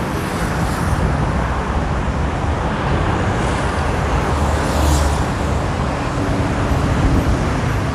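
Constant road traffic along a busy street in Phra Khanong, Bangkok: a steady wash of car and bus engines and tyre noise, with vehicles swelling past nearby and no talk.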